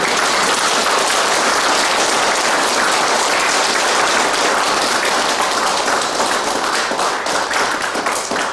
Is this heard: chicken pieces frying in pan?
no